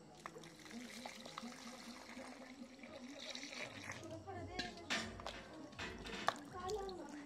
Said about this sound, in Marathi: पहिले बटाटे धुवून घेणार आहे